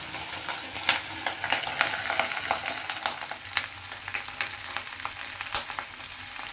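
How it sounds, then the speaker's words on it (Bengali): Ginger paste fries and is stirred in a pan for garlic chicken gravy, a close, lively sizzle broken by frequent scraping and tapping of a spoon at an irregular rhythm, with no speech. "এবার দেবো আদা বাটা। এগুলো ভাজতে থাকবো, ভালো করে ভাজতে হবে।"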